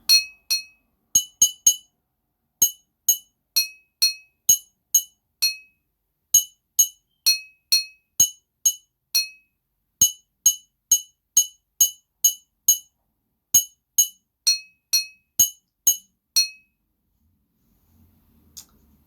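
Large plastic Tupperware food containers are struck repeatedly, producing sharp ringing clinks in quick, fairly regular succession, close and crisp, with brief pauses between groups of taps.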